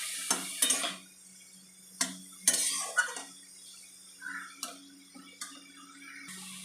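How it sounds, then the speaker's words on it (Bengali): Cubed papaya with turmeric is stirred in a pan, a spoon scraping and clinking against the metal in irregular bursts, with quiet gaps between strokes and a faint sizzle underneath. "এবার একটু নেড়ে নেবো আবার ভালো করে।"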